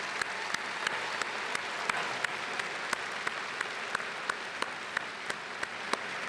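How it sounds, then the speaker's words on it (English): Steady applause from a commencement audience for the College of the Liberal Arts, a continuous wash of clapping with a few sharper individual claps standing out, heard at moderate distance. "please join me in congratulating them with a round of applause"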